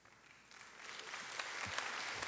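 Faint, scattered applause from an audience during a talk, growing slightly louder and denser over a couple of seconds with a few distinct claps audible.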